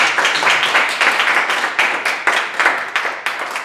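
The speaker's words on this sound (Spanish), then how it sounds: "Brindémosles un aplauso, por favor" An audience at an education panel discussion applauds the panelists, a full, close round of clapping that holds steady throughout with overlapping hand claps and no talking.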